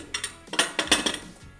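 A metal cake tin set down inside a pressure cooker for stovetop sponge cake, giving a few close, bright clinks and knocks of metal on metal in quick succession, with no voices.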